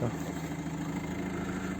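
Subaru diesel swap with Denso common-rail injectors idles in a smooth, even low-pitched rhythm, steady and close for under two seconds.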